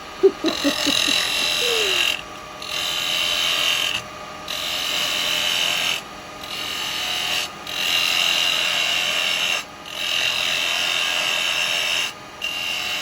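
A wood lathe spins at about 2,545 RPM as a carbide chisel cuts a small firewood bowl, producing a loud, bright scraping hiss in repeated bursts with short pauses between passes.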